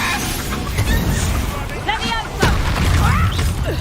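A Confringo fire spell from Hogwarts Legacy bursts into a sharp explosive blast over busy game ambience, with the loudest boom arriving past the midpoint and background chatter underneath.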